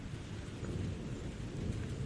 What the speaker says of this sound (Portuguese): tentando ignorar o barulho constante da chuva